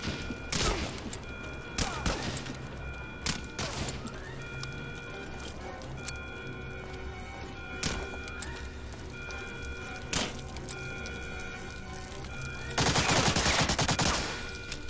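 Single gunshots crack at intervals as an oil barrel is shot in the World War II shooter Medal of Honor: Allied Assault, ending in a rapid burst, over a constant background hum of game ambience.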